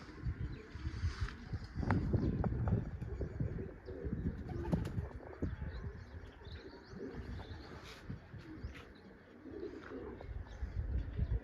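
Pigeons at a village pigeon-flying contest, soft cooing and chirps with intermittent wing flaps as birds settle, faint and close, with low rumbling background noise throughout.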